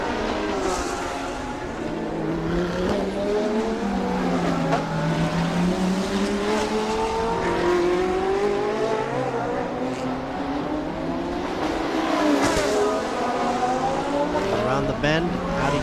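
Race cars scream around the track during a 2018 TSS race as an Audi slides, with engines rising and falling in pitch throughout and a commentator talking over the noise.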